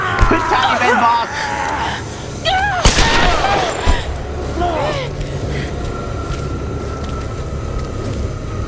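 Gunshots ring out during a boss fight in the 2013 Tomb Raider video game, a few sharp reports over game effects and background noise while a player shouts and talks.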